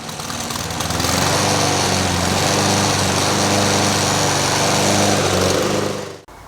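A Honda IZY petrol lawn mower engine runs loudly and steadily up close, revving slightly before abruptly cutting out at the end.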